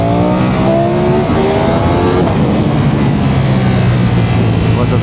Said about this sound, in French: Ça accélère quand même bien mieux.